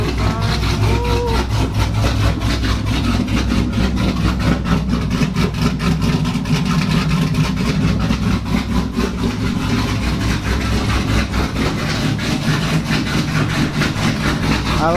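A big-turbo Mitsubishi Lancer Evo X with new tuning modifications runs at idle: a loud, steady, rough rumble with a rapid pulsing texture, close and continuous with no talking.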